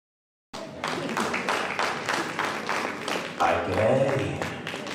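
A round of applause at a local economic development achievements event for a business forum representative, crowd clapping steadily and fairly close for several seconds, with some voices mixed in.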